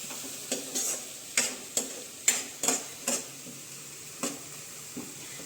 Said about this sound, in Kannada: ಹಾಕೊಂಡಿರೋ ಪೇಸ್ಟು ಎಣ್ಣೆ ಬಿಟ್ಕೋಬೇಕು, ಆಮೇಲೆ ಹಸಿ ವಾಸನೆ ಅವೆಲ್ಲ ಹೋಗಬೇಕು.